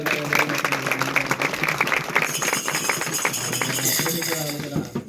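Church congregation clapping hands together at a Telugu gathering, a steady patter of claps over a sustained musical tone and some voices, moderately loud throughout.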